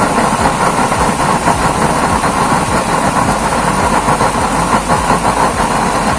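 A used-oil burner nozzle on a homemade stove roars loudly and continuously up close, a dense rumbling rush of flame with a steady fluttering texture and no pauses.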